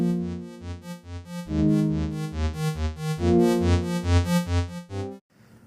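A royalty-free track plays as video game music, a bouncy electronic tune with a pulsing regular bass beat and bright stacked melody notes, loud and alone, ending with a brief noisy burst.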